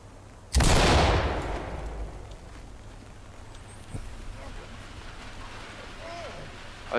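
A single sharp, loud Magnum gunshot in the tactical shooter Ready or Not cracks near the start and rings into a long decaying echo, followed by quieter ambient rustles and a faint distant thump.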